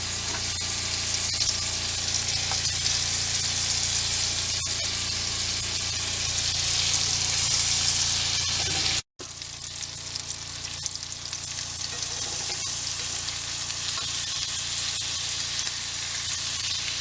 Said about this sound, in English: Butter and oil, going to start dropping these pieces in here.